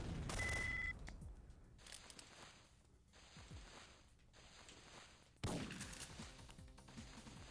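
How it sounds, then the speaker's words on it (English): Gunshots in a PS2 video game ring out as sharp, separate cracks with short reverberant tails, spaced irregularly over a quiet in-game background. "a good gunshot to the side of these guys' ears just sets them straight"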